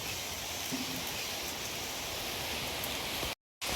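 Steady rain falls in a dense, even hiss that fills the scene without pause, then cuts out briefly near the end.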